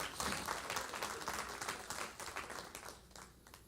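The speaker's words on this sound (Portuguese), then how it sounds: "Aplauda mais forte ao Senhor." A church congregation applauds together, dense clapping that swells and then gradually thins out, with no talking.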